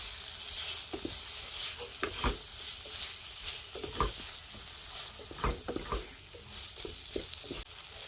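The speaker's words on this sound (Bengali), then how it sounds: "এবার এর মধ্যে দিয়ে দেবো পনির, ক্যাপসিকাম আর পেঁয়াজ। এবার এগুলো দিয়ে আরও কিছুক্ষণ কষিয়ে নেব।" Paneer, capsicum and onion stir-fried in spice masala in a kadai for restaurant-style kadai paneer: a steady close sizzle broken by repeated spatula scrapes and stirring knocks against the pan, with no talking.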